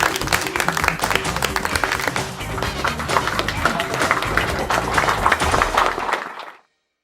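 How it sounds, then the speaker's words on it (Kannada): A crowd claps steadily during a dance scene in a Kannada TV serial, with dense, continuous applause under a thin musical tone and some voices, cutting off abruptly just before the end. "ಚಪ್ಪಾಳೆ ಚಪ್ಪಾಳೆ."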